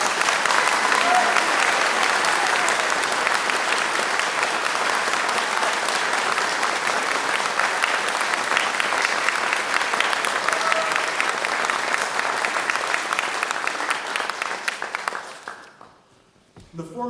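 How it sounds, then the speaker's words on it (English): Sustained audience applause for a congressman at a 2016 congressional debate, a dense steady wash of clapping from a large crowd that carries on for about fifteen seconds before fading out. "Ladies and gentlemen, a round of applause for Congressman Tim Huelskamp."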